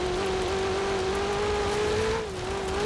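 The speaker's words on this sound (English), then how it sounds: "Screaming V8 engine, so good." A stock 2019 Ferrari 488 Pista's V8 screams at high revs in Forza Horizon 4 while driving on dirt, a loud sustained wail that holds steady, then dips briefly before climbing again.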